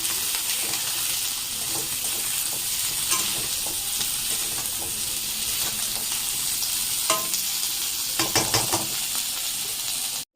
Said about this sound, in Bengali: আর এখন এই বেগুনটাও দিয়ে দেবো। বেগুনটা আগে ভেজে তুলে রাখাও যায়, তো আমি আর সেটা করলাম না, একবারেই ভেজে নিচ্ছি।